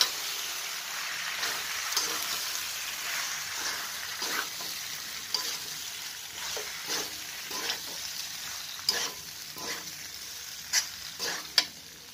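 Macaroni frying and being stirred in a pan over a lowered flame, a steady broadband sizzle with repeated scraping strokes of the spoon, close and fairly even throughout.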